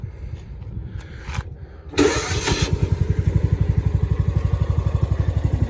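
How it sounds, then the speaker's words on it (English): The small engine of a John Deere 1200A bunker rake, a baseball field dressing machine with a badly varnished carburetor, cranks on choke, catches after a couple of tries and settles into a loud, close, rapid chugging idle. "basically you pull the choke out and crank it"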